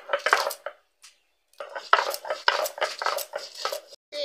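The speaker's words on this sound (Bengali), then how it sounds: "মশলাটা আমি বেটে নিচ্ছি।" Cumin and green chilli being ground into a spice paste, heard as close, irregular scraping and knocking bursts of stone or utensil work, with a pause in the middle before the rhythmic grinding resumes.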